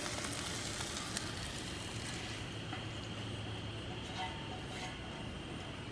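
Spam sizzles hard as it fries in a well-used seasoned pan, a dense, loud, steady hiss that eases slightly toward the end, with faint scrapes mixed in.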